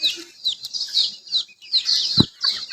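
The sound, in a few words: native chicken chicks clucking on a farm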